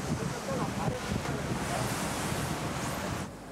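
Rough sea waves surge around a boat during marlin fishing, making a continuous roaring wash of surf mixed with buffeting wind noise on the microphone, steady and close throughout.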